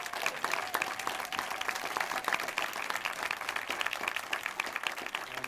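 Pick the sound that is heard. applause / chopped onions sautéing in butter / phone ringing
applause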